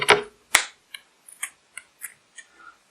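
Scissors snipping through a T-shirt sleeve in a quiet room: two sharp close clicks, then a run of lighter, evenly spaced blade snips.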